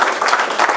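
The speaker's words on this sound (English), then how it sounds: "A round of applause for her" Brief burst of audience applause at a business seminar, a close, busy patter of many hands clapping for under a second.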